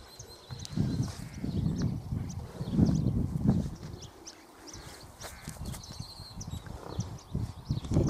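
A working ranch horse, a stocky red-coated cob with a split rump, walks with soft, uneven hoof clops on an outdoor surface, wind and faint birdsong around it and no talk.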